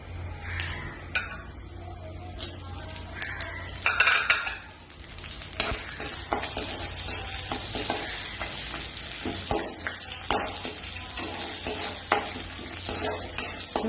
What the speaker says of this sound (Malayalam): കടുക് പൊട്ടിയതിന് ശേഷം നമുക്ക് കടലപ്പരിപ്പും കപ്പലണ്ടിയും വറ്റൽമുളകും കരിവേപ്പിലയും ഇട്ട് നന്നായിട്ട് സോട്ട് ചെയ്യണം.